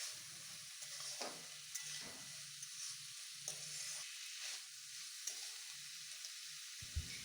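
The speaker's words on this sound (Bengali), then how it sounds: "এবার আমি এটাকে ভালো করে নাড়াচাড়া করে একটা থালা ঢাকা দিয়ে দেবো" Bottle gourd curry being stirred in a pan on a home stove, with soft scraping strokes at irregular intervals over a low, steady sizzle. No voices are heard.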